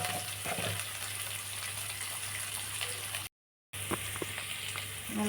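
Ingredients sauté with turmeric in a pan for a lunch box dish, giving a steady, soft, close sizzle with light stirring and a brief silent gap partway through.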